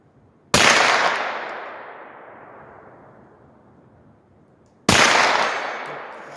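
Two sharp, loud rifle shots from a rifle fitted with an LPVO and offset iron sights, fired outdoors about four seconds apart, each one followed by a long decaying echo.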